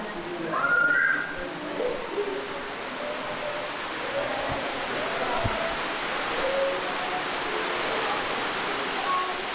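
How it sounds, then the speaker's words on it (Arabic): A steady broadband roar of falling water runs throughout, with faint whistle-like tones and a brief voice early on. "شلالات هاي"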